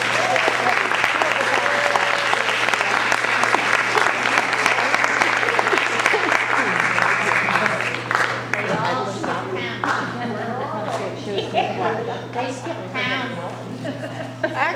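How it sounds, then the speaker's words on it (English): Banquet audience applause welcoming St. John's Men's Orchestra at a mother and child banquet, loud dense clapping that thins and fades after the midpoint while people talk and chatter over it. "a warm round of applause for St. John's Men's Orchestra"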